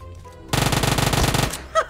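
A sustained burst from an Uzi submachine gun in PUBG Mobile: one continuous, rapid rattle of shots for about a second, loud and close. It starts abruptly and cuts off, followed by a brief faint chirp.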